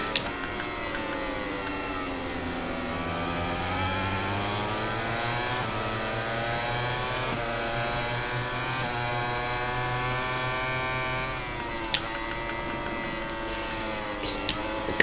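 A 2009-season MotoGP race in the MotoGP 22 video game, where high-revving Yamaha and Ducati racing motorcycle engines whine steadily and loudly, pitch rising and falling with gear changes over about fifteen seconds.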